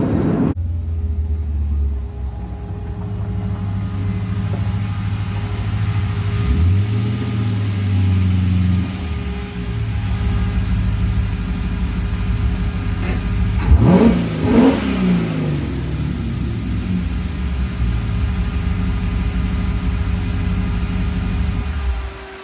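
A carbureted LS V8 engine in a Porsche 944 rumbles steadily up close, with a rising rev around the middle and a sharp burst of revving later, loud and continuous throughout.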